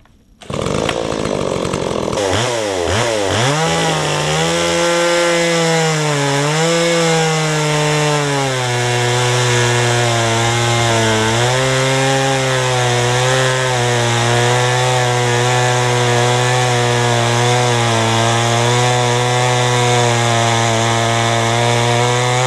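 A STIHL MS170 chainsaw fitted with a crosscut chain and six-tooth sprocket rips lengthwise through wood, starting up then holding a loud, steady, close-up cutting drone with slight pitch dips as it bites in.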